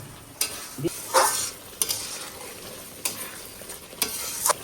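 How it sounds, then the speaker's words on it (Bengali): Boiled jackfruit stirred and fried in a spice mix, a low close sizzle punctuated by several sharp scraping strokes of the spoon against the pan at irregular intervals, with no voices. "এই মশলার ভিতরে ইঁচড়টা দিয়ে দেবো"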